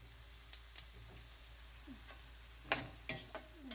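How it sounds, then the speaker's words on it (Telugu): Sliced onions fry in oil with cloves, cardamom and cinnamon, a faint, steady sizzle broken by a few sharp clinks and stirring scrapes of a spoon against the pan. "దోరగా వేయించుకోవాలి."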